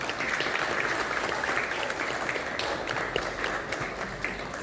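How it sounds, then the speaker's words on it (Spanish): An audience at a book presentation on South American camelids applauds steadily, a dense, sustained wash of clapping that holds at an even level throughout, with no voices rising above it. "Así que les pido por favor unos aplausos."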